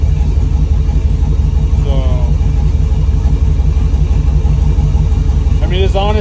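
A 6.0L L76 LS V8 with a Texas Speed stage two cam idles steadily in a 1971 Jeep Gladiator build, its deep, loud rumble carrying a slightly choppy lope throughout while someone speaks briefly over it.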